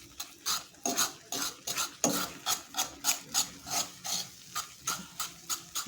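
Organic black soap being mixed over low heat, a steady rhythmic scraping and stirring, about two strokes per second, close and fairly loud with no talking.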